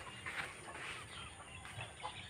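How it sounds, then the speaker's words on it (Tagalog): Chickens cluck softly in a farmyard, a few short, faint calls scattered over a low, noisy outdoor background. "Yung mga manok natin."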